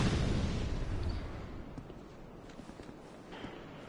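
A low booming explosion rumble in a video game fades away, followed by scattered faint thuds and steps.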